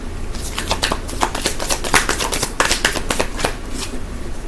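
Tarot cards being shuffled by hand for a Scorpio reading, a steady run of crisp riffling flutters and soft slaps lasting several seconds, close and fairly loud with no talk over it.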